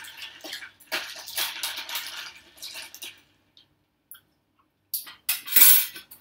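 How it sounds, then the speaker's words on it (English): A long island iced tea cocktail being stirred in a glass, with clinking spoon and ice rattle in bursts, a pause, then a final brisk round of clinks. "stir it a little bit more."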